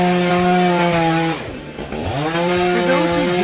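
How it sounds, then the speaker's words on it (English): Chainsaws roar through trees at a logging site, a loud steady engine drone that dips in pitch and load midway as the saw bites into wood, then revs back up. "birds singing along with the roar of chainsaws"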